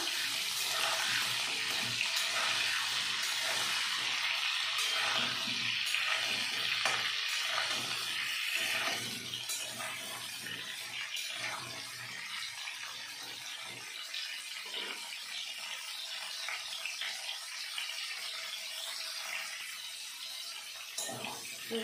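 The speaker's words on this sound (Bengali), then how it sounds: "এখন আমি দিয়ে দেবো কেটে রাখা ফুলকপিগুলো।" Potato and cauliflower pieces fry together in a pan of oil. A continuous, watery, crackling sizzle carries on throughout, close and fairly even, with some sputtering bursts along the way.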